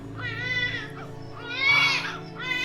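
An infant cries in wavering, sobbing wails that rise louder toward the middle, set in a dramatized horror story.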